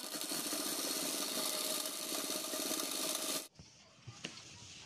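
A sewing machine stitches the cuff corner of a Pathani kurta in one steady, loud, fast run of needle strokes that stops abruptly. A few quiet clicks and handling sounds follow.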